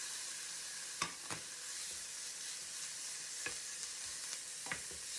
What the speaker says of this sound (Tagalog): I'm gonna put the pork chop now.